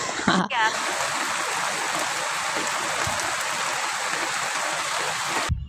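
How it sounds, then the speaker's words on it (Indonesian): Heavy rain pours down outdoors during a trip to a garden, a dense, loud, continuous hiss of rainfall and splashing that holds steady after a brief noisy start. "semoga aja hujannya nggak besar ya. Kita lanjut lagi dan ternyata makin lebat ya."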